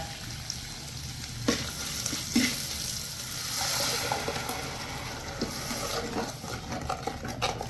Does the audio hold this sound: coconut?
yes